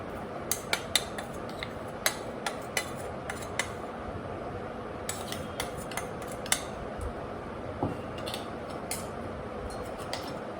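Mustard-fenugreek powder is mixed into cut raw mango pieces for pickle, with soft scraping and scattered light clinks of a spoon against a metal bowl, close and quiet, no talking.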